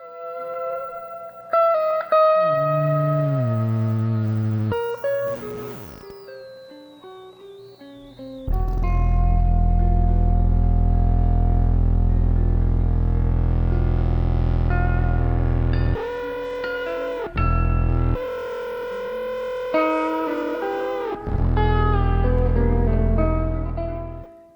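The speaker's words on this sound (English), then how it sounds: "coaxing some extended tones from Big Brown's complex of knobs" Heavily processed electric bass from a custom rig with many control knobs, played live by a bassist in Cincinnati in 1973: sustained droning tones, gliding pitches and distorted swells that rise to loud, dense passages, with no voices.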